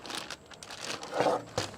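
A plastic bag crinkles softly at close range as raw beef for carne asada is laid flat inside it, with short rustles and a few louder crackles.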